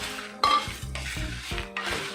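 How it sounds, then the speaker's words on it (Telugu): Garlic sizzles in a hot pan while a spoon stirs and scrapes against the metal in a few quick, clattering strokes, up close. "అందువల్ల నేను ఒక్కసారి ఇది ఫ్రై చేస్తున్నాను"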